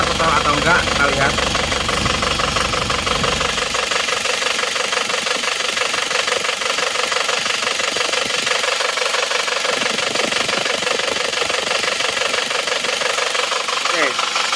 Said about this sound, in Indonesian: Mesinnya seperti ini, start paginya.